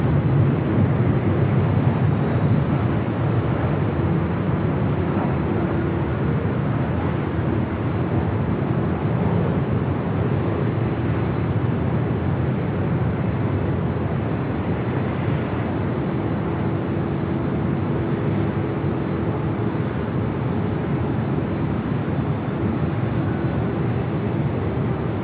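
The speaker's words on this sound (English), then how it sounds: "Air Tahiti Nui, the flight to Paris, also heading up for a north side takeoff." A steady, loud jet engine roar with a sustained low hum runs unbroken throughout as an Air Tahiti Nui plane bound for Paris takes off from LAX's north side; no voices.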